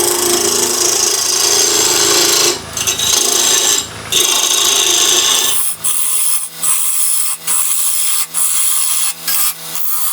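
A wood lathe turns an eccentric-mounted blank while a tool cuts down through waste toward solid wood, giving a loud, continuous rasping scrape with brief breaks and sharper interruptions as the cut catches, close and without talk.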